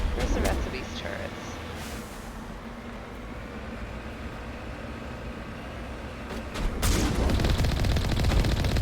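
Gunfire from turrets in the video game Mass Effect, a burst of sharp shots at the start and a dense loud volley near the end, with a quieter stretch of game noise between them.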